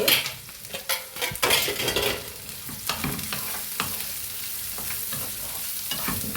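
Grated fresh coconut fries with browned onions in a pan, spoon clattering and scraping loudly at first, then settling into a steady near sizzle with lighter stirring strokes.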